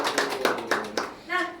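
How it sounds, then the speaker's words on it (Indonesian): A classroom group claps hands in a few quick, scattered claps, and a voice comes in briefly at the end. "Tepuk tangan dulu dong."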